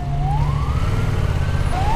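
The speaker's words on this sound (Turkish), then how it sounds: "Bir saniye ambulans gitsin de anlatacağım." An ambulance siren wails past on a Turkish highway, a loud rising and falling tone over constant road and engine rumble.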